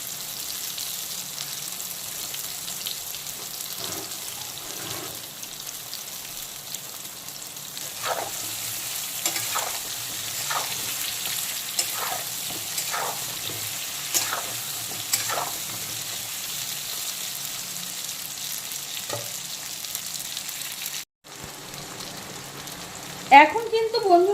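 Pointed gourd frying in oil over a full flame, a continuous sizzle with repeated spatula scrapes and stirring knocks, close by, ending in a brief clatter.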